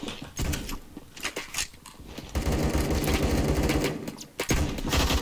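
Rifle fire in a video game, rapid bursts of loud shots in quick succession with mechanical clatter, continuous and close with short pauses between volleys.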